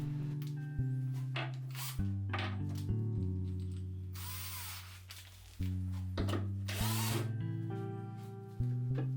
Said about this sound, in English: now only the tabletop remains, and I'm screwing that in with my little electric screwdriver